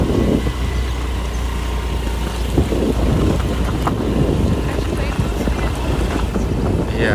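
A Honda Activa scooter on the move, a steady engine drone buried in continuous heavy wind rush that buffets the microphone throughout.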